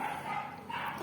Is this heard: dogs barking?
yes